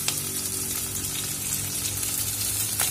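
Green chillies, small shallots and crushed garlic sizzle steadily in hot oil in a pan, a continuous close frying crackle with no talk.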